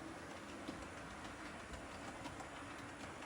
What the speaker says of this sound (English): the train should be passing anytime. Here it comes.